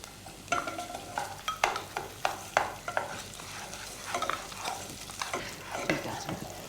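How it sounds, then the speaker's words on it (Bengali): Rice and lentils being stirred in a pan for baby food, a spoon scraping and swishing in uneven strokes over a faint sizzle, close and fairly quiet. "তুমি একটু নাড়ো তো।"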